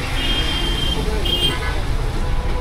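Busy highway traffic near an accident site, with a steady roar of passing cars and buses and short vehicle horn toots rising over it, while people talk close by.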